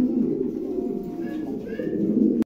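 A pair of American Show King pigeons cooing close by, a steady, low, throaty murmur that rolls on continuously without a break.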